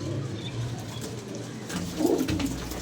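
Domestic pigeons coo softly in a loft, low throaty calls rolling over a muffled background, growing a little louder near the end.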